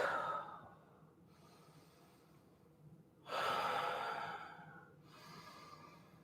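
Deep breathing during a yoga session, with a few slow, audible breaths of rushing air separated by quieter stretches, close and soft, with no talking.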